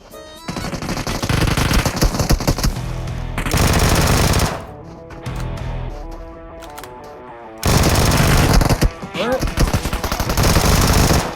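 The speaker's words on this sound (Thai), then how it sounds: "เขามายิงกันอันตรายอยู่นะ" Rapid automatic gunfire bursts from PUBG Mobile combat, loud and dense, with pauses between volleys and overlapping shots from several weapons.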